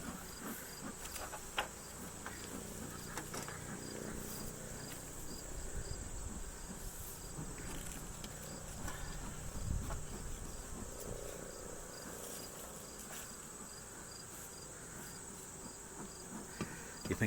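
Honey bees at an open hive in late season give a faint, steady insect drone that carries on without a break and without any voices.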